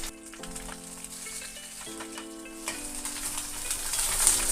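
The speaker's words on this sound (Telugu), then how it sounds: "మిర్చీలు వేయించుకోవాలి ఆయిల్లో." Green chillies frying in a pan of hot oil, a soft steady sizzle with light stirring and scraping clatter on top, some tonal hum underneath, no talking.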